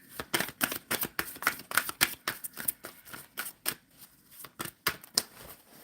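Tarot cards being shuffled by hand during a live reading, a rapid run of crisp riffling bursts and slaps repeating in uneven rhythm, close and fairly loud with no talking.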